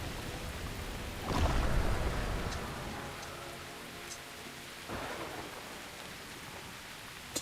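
Rain and thunder ambience in World of Warcraft: a steady wash of rainfall throughout, with a loud thunder rumble early on and a softer rumble later, with no talk.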